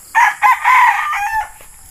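Young roosters (stags) on a farm crow in several harmonic bursts mixed with clucking on a morning, loud and close, with no voices.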